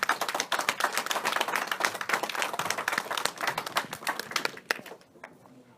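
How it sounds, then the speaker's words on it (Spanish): A church congregation applauds at a Spanish-language evangelical Bible study service, a dense, loud burst of many hands clapping that carries on for about five seconds, then tapers off abruptly into quiet, with no speech over it. "El pastor no recibe aplausos, son para Cristo."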